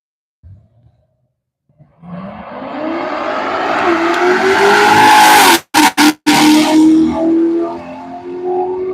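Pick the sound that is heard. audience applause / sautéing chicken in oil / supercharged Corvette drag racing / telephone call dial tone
supercharged Corvette drag racing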